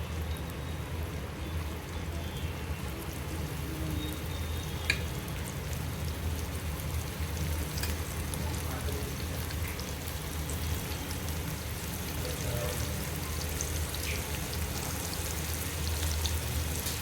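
Finely chopped onion frying in hot oil in a pan for palak dal khichadi, giving a steady, even sizzle that runs throughout without a break and with no voices over it.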